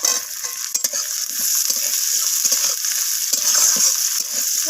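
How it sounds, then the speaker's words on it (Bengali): Potatoes fry with onions in a pan, a continuous close sizzle broken by repeated scraping stirs and occasional clatters. "তো আলুগুলোকে আমি পেঁয়াজের সাথে নাড়াচাড়া করে নিলাম।"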